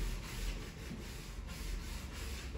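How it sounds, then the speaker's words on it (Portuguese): Wooden furniture being sanded by hand for a gourmet-area refurbishment makes a close, continuous rough rubbing that rises and falls in a loose back-and-forth rhythm. "Vou voltar a lixar."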